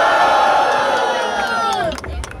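Outdoor rap battle crowd roars and whoops loudly for rappers Moita Treta and Janderson, a dense sustained cheer with rising voices that drops off after about two seconds.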